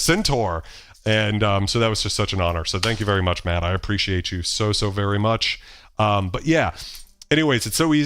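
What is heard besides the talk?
None of the usual background noises is heard.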